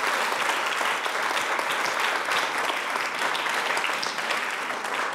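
Studio audience applauding on a French television talk show, a dense, steady burst of clapping filling the room from start to finish without any talk over it.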